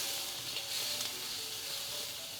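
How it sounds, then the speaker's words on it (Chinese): Dried shrimp and garlic frying in oil, a soft and fairly faint continuous sizzle with no voices. "首先要把我们的这个虾米还有蒜头给爆香"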